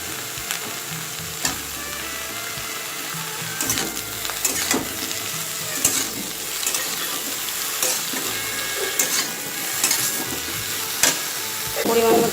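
Ridge gourd pieces fry in a pan, giving a steady close sizzle broken by frequent spoon scrapes and stirring clatter throughout, with no talking.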